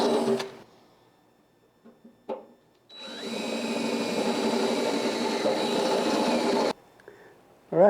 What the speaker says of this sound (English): I just have to drill holes through that instead of making a plate.